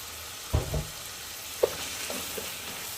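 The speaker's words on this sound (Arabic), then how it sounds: "هنقلب الرز كويس لحد لما الحبايات كلها تلمع عشان ما يعجنش في بعضه" Rice stirred and fried in a pan while making madardara, with a couple of soft scraping stirs and a gentle sizzle close by, no voices.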